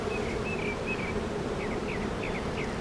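Honeybees at an open hive during a routine inspection, a dense, steady buzz close by with individual bees' whining passes drifting over the hum, and no voices.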